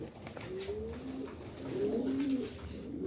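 A breeding pair of pigeons coos nearby in soft, rolling low calls, repeated a few times in quick succession with no voices over them.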